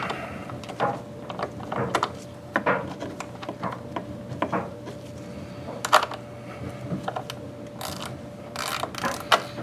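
A ratchet tightens the negative battery terminal on a Ford F-series truck, giving close, irregular metallic clicks and brief pawl rattles with a faint steady hum underneath and no voices.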